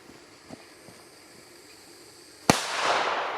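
Black powder fireworks go off at a triangle fire show: a few faint pops come first, then one sharp loud bang followed by a long crackling hiss that carries on to the end.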